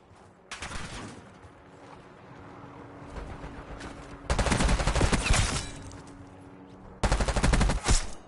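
Bursts of automatic gunfire in a Call of Duty online match, three loud rapid-fire volleys separated by quieter background game sound, with no voices over them.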